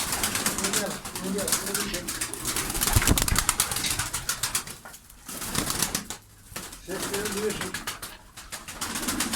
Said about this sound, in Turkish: Harbiden ya kanat sesleri gerçekten şey yani.